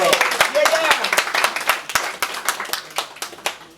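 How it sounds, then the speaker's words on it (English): An audience at a health and wellness investment event in Ghana claps in sharp, fairly sparse, close hand claps over about four seconds. "Let's give him a round of applause."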